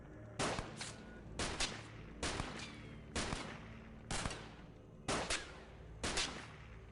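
Bursts of gunfire in the XCOM Files video game against tough enemies, seven sharp, loud volleys at roughly one-second intervals, each with a short ringing tail.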